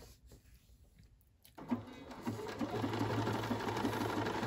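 A BERNINA 535 sewing machine starts stitching after a quiet moment, its rapid even needle rhythm rising into a steady close whir that keeps running.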